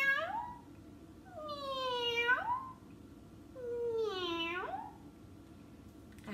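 A human voice imitates a cat's meow during a children's storytime, giving two or three drawn-out, rising-and-falling meows separated by short pauses, clear and fairly close against a quiet room.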